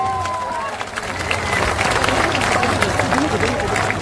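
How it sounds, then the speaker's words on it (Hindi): A crowd at a Jan Suraaj political party gathering applauds loudly, dense sustained clapping from many hands that swells after the first second and continues to the end, with voices heard among it. "जोरदार ताली बजाइए।"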